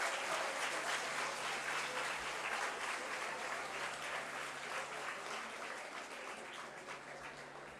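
Audience at a Love India Serve India event applauding, a dense, sustained round of clapping from a large crowd that slowly fades over several seconds.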